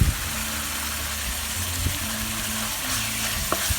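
Chicken stir-frying in a pan with red curry paste, a steady close sizzle and frying hiss with faint stirring scrapes throughout, no voices.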